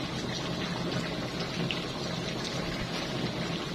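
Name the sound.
pouring tamarind liquid into the pot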